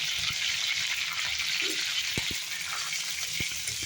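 Curry leaves and garlic sauté in a hot pan with a steady, close sizzle and a few sharp taps of a spoon against the metal.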